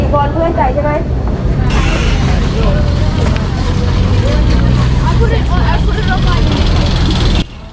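A Bangkok river ferry churns along the Chao Phraya with a loud, steady engine drone and rushing water, while people talk over the noise until the end.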